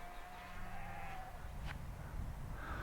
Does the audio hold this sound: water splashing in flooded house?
no